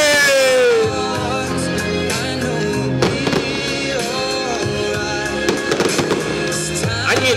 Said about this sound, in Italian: le bombe, i fuochi d'artificio di altissimo livello